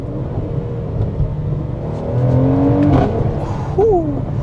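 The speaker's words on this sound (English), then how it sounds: "I like that exhaust note." A 2022 Mercedes-AMG GLC 43 engine revs up with a throaty exhaust note, rising in pitch near the end, heard close and loud.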